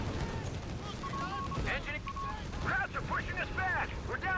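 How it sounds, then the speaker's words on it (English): Gunfire from Company of Heroes 3 as Rangers kill an enemy MG team. Short, sharp bursts of shots run beneath a steady stream of commentary. "Rangers killing the MG."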